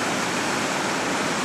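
Floodwater pours over and under a road through culverts during flooding in Temple, Texas, a loud, steady broadband rush with no breaks, like a waterfall close by.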